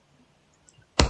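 One crisp Enter keystroke on a computer keyboard, a single close click that lands after near silence.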